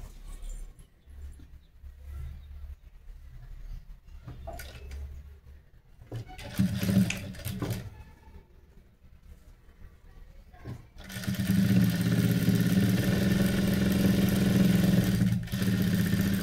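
Sewing machine stitching a princess blouse: a steady, loud motor whir with rapid needle clatter runs continuously through the final stretch, after quieter handling sounds and brief machine starts.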